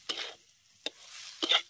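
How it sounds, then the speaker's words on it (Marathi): Mixed vegetables stirred in a pan over a wood-fired stove, three short scraping strokes separated by quiet gaps with a faint sizzle underneath. "आता जरा भाजी सैलवर करून घेतो."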